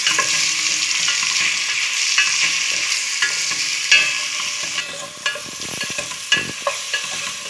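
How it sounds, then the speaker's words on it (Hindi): Onions fry in oil for keema naan filling, a steady bright sizzle close by, broken by clacks and scrapes of a spoon stirring that grow more frequent toward the end, with no talking. "जब तक लाइट ब्राउन नहीं हो जाती प्याज, हम इसे इसी तरह से फ्राई करते रहेंगे।"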